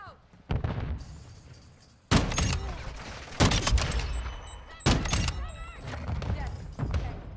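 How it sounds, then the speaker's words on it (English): Stun grenade going off in Call of Duty MW2 amid sharp gunfire, with several loud close bangs and bursts of shots spread across a few seconds. "Stun grenade out."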